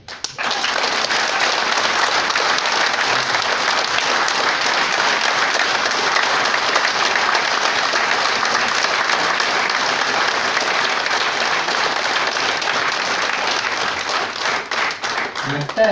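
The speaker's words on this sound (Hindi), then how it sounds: "मैं चाहूंगा दूर से आने वाले सभी लोगों के लिए एक बार दिल्ली वाली तालियां चाहिए।" An audience at a business gathering in Delhi breaks into sustained, loud applause, a dense wash of clapping from many hands that holds steady for the whole stretch before tapering slightly at the end.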